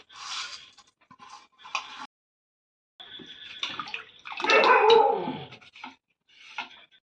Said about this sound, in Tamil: கொஞ்சோட தண்ணி ஊற்றிக்கலாம், போதும்.